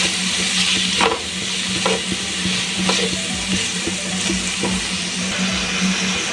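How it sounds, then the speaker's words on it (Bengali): Two chopped medium-sized tomatoes stir-fry in a pan with a loud, continuous close sizzle, broken by regular scraping strokes of a spatula. "2টো মাঝারি সাইজের টমেটো কুচিয়ে রেখেছিলাম, টমেটো কুচিটা দিয়ে দিলাম"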